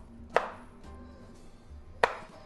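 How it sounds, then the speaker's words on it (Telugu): Two sharp knife chops cut peeled raw tender mango into small pieces on a board for an Andhra-style Ugadi pachadi, the crisp impacts spaced well apart against quiet kitchen background. "ముందుగా లేత మామిడికాయని తొక్కు తీసుకుని ఇలా కట్ చేసుకోవాలి చిన్న చిన్న ముక్కలుగా."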